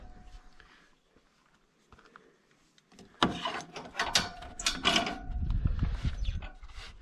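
A lock is closed on the top cover of a Case TV450 skid steer, with faint fumbling and then a burst of close metallic clacks, rattles and scraping that continues busily to the end, with no talking.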